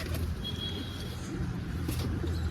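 Pigeons on a rooftop loft, soft low cooing that murmurs faintly through the background with a brief high whine and some distant ambient noise.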